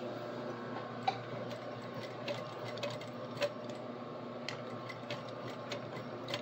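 A sewing machine runs steadily, top stitching a fabric panel for a vanity, with a continuous mechanical hum and a few faint ticks throughout, fairly quiet and close.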